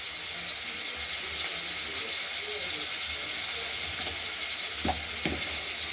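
Potatoes frying in oil in a pan, a steady soft sizzle and crackle running throughout with a couple of faint clinks near the end, heard at low level.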